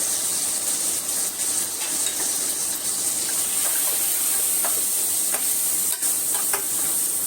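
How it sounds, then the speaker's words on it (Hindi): Tomatoes, turmeric, chili and salt hit onions frying in a pan, producing a steady, loud close sizzle with occasional stirring scrapes. "अब इसमें डालती हूँ मैं ये टमाटर और हल्दी और मिर्च और नमक"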